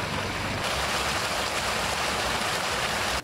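Treated wastewater from a municipal water utility's treatment plant pours steadily into a river, a loud continuous rushing roar that shifts slightly partway through and cuts off abruptly at the end.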